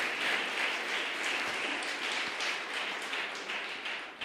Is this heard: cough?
no